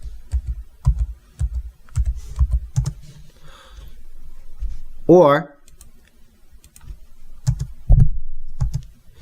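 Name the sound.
typing on a computer keyboard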